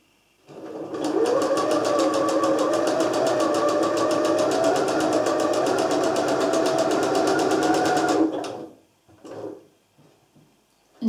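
A sewing machine zigzag-stitches the folded edge of blouse fabric in one steady eight-second run, close and even, followed by brief handling noises.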